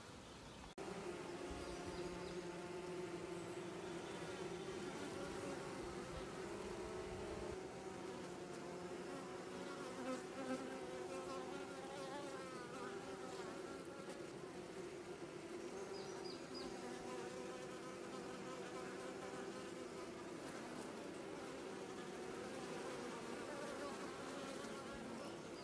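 A honey bee swarm buzzes beside a catch box, a steady, dense droning hum of many wings that holds close and unbroken throughout.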